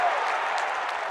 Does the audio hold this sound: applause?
yes